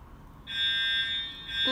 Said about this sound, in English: It's the fire alarm. They're actually testing it from time to time.